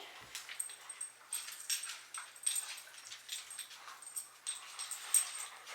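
A puppy whimpers softly in thin, high-pitched whines, repeating in short bursts over a quiet background.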